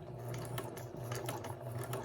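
A sewing machine stitching a button onto fabric runs with a quick, even mechanical clatter and ticking, fairly quiet and continuous, with no voices.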